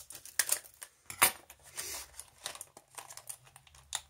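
Old scissors snipping and crinkling through plastic packaging for a cheap ABUS 45/20 padlock, a series of sharp crackling cuts and rustles in irregular bursts, close and fairly quiet.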